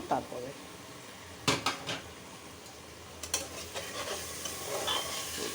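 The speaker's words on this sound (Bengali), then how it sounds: "এখন মশলা কষানো হয়ে গেছে, ডালটা কষাবো" Moong dal is sautéed with cooked spices in a pressure cooker, with a soft background sizzle and several close metallic scrapes and clinks of a spoon against the pot.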